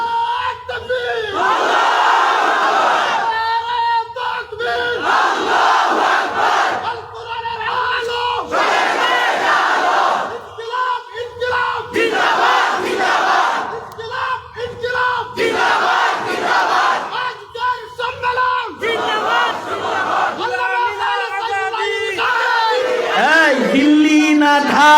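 A large crowd at an outdoor Islamic religious gathering chants takbir in loud, repeated bursts, many voices shouting together in rhythmic waves, with a single leading voice between the responses.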